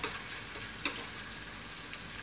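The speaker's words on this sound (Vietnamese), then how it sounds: "cô đã chiên xong một mẻ gan rồi này đó." Beef liver frying in a pan for a Vietnamese dish: a steady, close hiss of hot oil sizzling, broken by one brief tick, with no voices.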